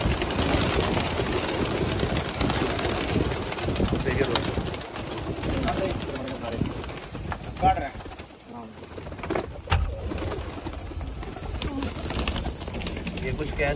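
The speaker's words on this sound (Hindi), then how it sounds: "ये सारे पटियाले कबूतर है।" A large flock of about 200 Patiala pigeons in a netted loft at a pigeon-keeping yard, their soft cooing and fluttering running continuously under nearby talk.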